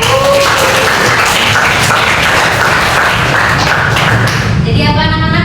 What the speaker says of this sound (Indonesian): Luar biasa, berikan tepuk.